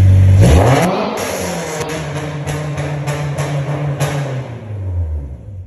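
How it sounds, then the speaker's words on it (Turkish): A Honda S2000 sports car engine revs hard, its exhaust roaring up and then settling into a steady, throaty idle that slowly drops away, loud and close. "Egzoz sesini dinleyeceksin şimdi"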